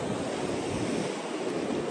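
Sea waves at Betul beach in Goa, where the Sal river meets the Arabian Sea, wash in a steady broad surf roar mixed with wind buffeting the microphone.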